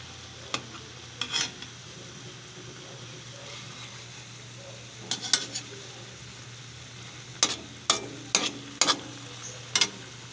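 Pork bistek broth with beef skin simmering and reducing in a pan, a steady low bubbling bed broken by sharp scraping stirs near the start, middle and a quick cluster toward the end.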